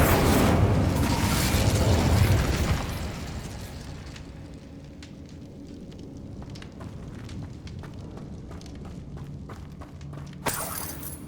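Bombarda and Incendio spell explosions in Hogwarts Legacy, a dense loud blast with crackling debris for about three seconds, then a quieter rumbling tail and a sharp crack near the end.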